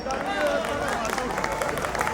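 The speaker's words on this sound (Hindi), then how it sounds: "तालियां हो जाए भाई के लिए" Audience applause for a performer at a college hostel day celebration, a dense steady wash of clapping mixed with crowd babble, sustained at moderate loudness throughout.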